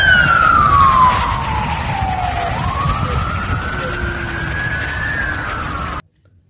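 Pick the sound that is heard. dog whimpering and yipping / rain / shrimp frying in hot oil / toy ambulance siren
toy ambulance siren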